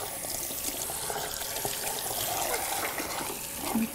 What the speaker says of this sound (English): Making sure you have a really nice rinse through.